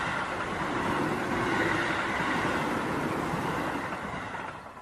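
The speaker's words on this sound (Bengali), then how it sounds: "ট্রেনটা এসে পড়ল। ঝোপঝাড়ে কাঁপন ধরিয়ে ঝমঝম করে চলে গেল স্টেশনের দিকে।" A train rumbles past toward a station in a rural Bengal setting, a steady, dense, close roar that holds and then begins to fade.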